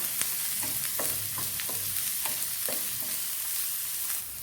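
Chopped onion sautéing in hot coconut oil in a pan, with a steady close sizzle and a series of scraping stirs at roughly half-second intervals throughout.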